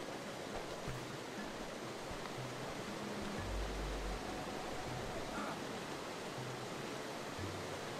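A waterfall in the survival game Starsand pours with a steady, broad rushing hiss that holds constant throughout, with faint low tones and soft knocks underneath.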